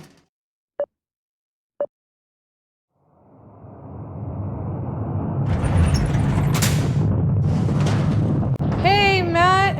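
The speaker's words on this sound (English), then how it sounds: "flip the right switch to launch the rocket." A rocket launches in Nancy Drew: The Haunting of Castle Malloy: two short clicks of switches, then a deep rumbling roar that swells and holds, with a faint whistling tone near the end.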